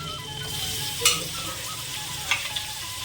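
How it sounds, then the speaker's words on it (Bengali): Meat frying and being sautéed in oil in a pan, a constant close hiss of sizzling with a couple of brief sharp spatula scrapes, no voices. "মাংসটা একটু ছেঁকে দিচ্ছি ছেঁকে একটুখানি কষিয়ে নেব"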